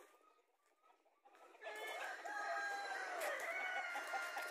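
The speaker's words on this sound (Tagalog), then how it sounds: "So ngayon nandito yung mga tandang." Rhode Island free-range chickens cluck close by while a rooster crows, starting quietly and growing busier and louder after a second or so, with no talking.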